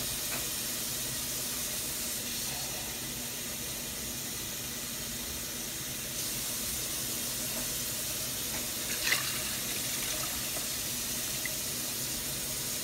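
Tap water pours steadily into a pot of pinto beans with ham chunks, a soft continuous hiss and trickle lasting throughout at moderate level, with laundry machines running faintly in the background.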